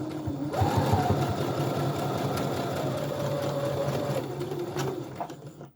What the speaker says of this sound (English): I'm just going to sew right off the edge